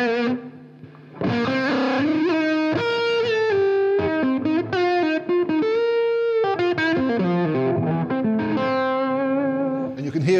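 An electric guitar played through a switchable EMG 89 humbucker pickup with high gain, giving a loud, distorted, sustained run of notes and chords that continues without pause.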